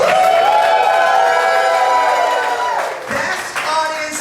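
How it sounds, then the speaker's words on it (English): A comedy show audience answers with loud cheering and whooping mixed into applause, sustained and bright at first, then thinning toward the end. "where are the gays in the room by applause?"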